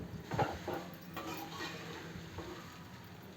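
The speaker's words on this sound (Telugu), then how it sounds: "పోపు మొత్తం కలిసేంత వరకు కలుపుకోవాలి" Fried poha mixed with seasoning is stirred in a pan, making quiet scraping and rustling with a few soft clinks.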